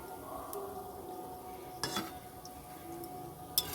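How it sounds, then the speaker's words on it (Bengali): Mango fritters frying in hot oil and being stirred in a pan, a soft continuous sizzle with occasional scraping and clinks of the utensil, fairly quiet. "বৌদি এখন নাড়িয়ে নাড়িয়ে ফুলগুলো ঠিক করছে।"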